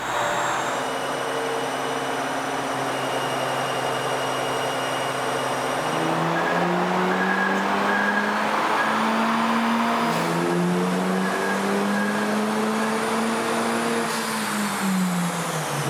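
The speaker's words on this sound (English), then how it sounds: "the car is spinning the wheels on the dyno" A 2023 Honda Civic Type R roars steadily on a dyno, its engine note climbing and dropping through revs for about sixteen seconds, loud and continuous with faint whine above.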